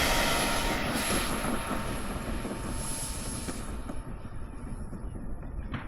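Propellers on a homemade flying Cybertruck model running at full power, a loud steady buzzing whine that holds for about four seconds before dropping off.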